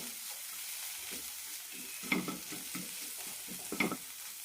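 Vegetables sizzle and fry in a pan with garam masala, chili powder and turmeric, a steady soft hiss broken by scraping stirs and two sharp clinks of a spoon.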